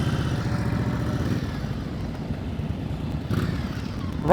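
A motorcycle idles during slow-speed riding practice in New Jersey, a steady low engine rumble with a slight rise near the end, no talk over it.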